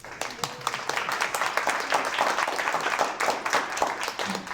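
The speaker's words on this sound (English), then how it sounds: "Applause, please." Studio audience applause at a live business interview show, a steady dense patter of many hands clapping throughout, fairly close and unbroken.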